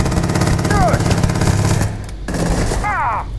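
Rapid automatic bursts from the Grendel rifle fired from the hip in Starfield, loud and dense, with a short pause before a second stretch of fire; electronic whistling tones sweep over the shots.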